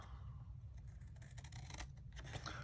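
Thick-bladed scissors snip through paper along a score line in a series of faint, quick crisp cuts over a low steady background hum.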